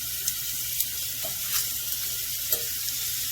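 Rib eye steaks sizzling in a pan, a steady hiss of frying with small crackles and pops, close and fairly quiet, with no talking.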